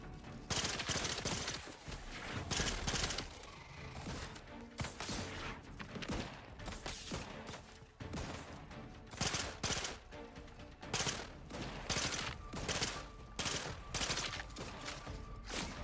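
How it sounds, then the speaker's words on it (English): Pistol gunfire in The Outer Worlds 2 cracks out in rapid volleys, many sharp shots in irregular bursts over game sound, loud and close, with no talking. "This is a crazy ass pistol."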